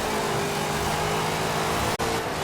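A Chevrolet Camaro IROC-Z rally car engine in the Forza Horizon 4 racing game drones loudly and steadily at high revs, with one brief dropout near the end, and no talking.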